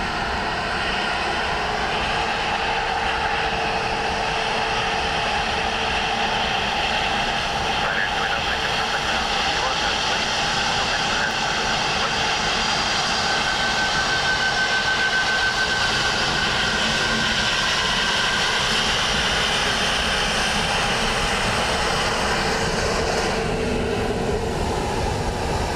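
Airliner on landing approach to runway 28 left at Dublin Airport in low visibility, a steady loud broadband jet roar sustained throughout with a faint tonal whine, no talk over it.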